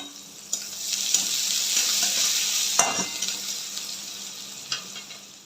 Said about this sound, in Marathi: कांद्याला गोल्डन ब्राऊन कलर येईपर्यंत छान असं परतून घ्यायचं आहे आपल्याला